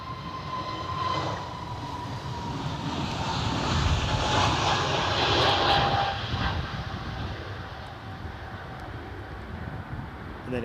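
Jet2 airliner engine roaring at windy Edinburgh Airport, a broad steady rumble with a thin whine that swells to a peak around the middle and eases slightly, continuous and fairly close with no talk.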